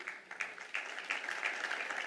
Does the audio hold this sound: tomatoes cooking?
no